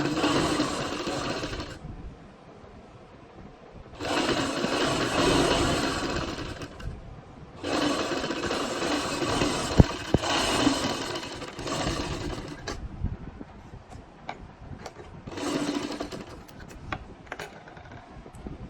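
A sewing machine stitches fabric for a kachhera waistband in several close, steady runs of a few seconds each, with quieter pauses in between where the cloth is handled.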